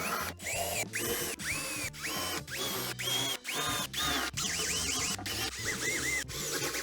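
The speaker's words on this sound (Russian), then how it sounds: "Делаю потай сверлом и потом вкручиваю саморез." A power drill with an 8 mm bit countersinks a hole, then drives a self-tapping screw, trimming an attic roof window. Close and loud, in repeated whining bursts with rising pitch, separated by brief pauses.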